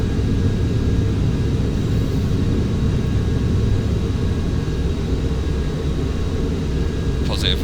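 A Boeing 737 in Flight Simulator climbs out after takeoff from Manchester, its engines making a steady, loud, low rumbling roar that holds level throughout, with a voice speaking over it.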